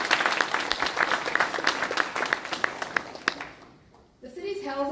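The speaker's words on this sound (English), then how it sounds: "this deserves another round of applause" An audience at a mayor's state of the city address in Campbell gives a round of applause: dense, sustained clapping that fades out, followed by a voice speaking.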